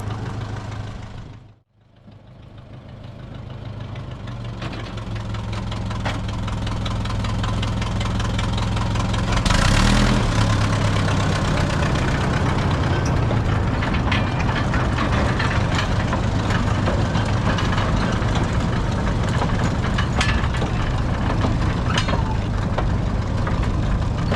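A model train backs out along a newly laid siding and pushes through a track switch, a steady motor hum and rolling rumble that builds after a brief dip, continuous and close, with no talking.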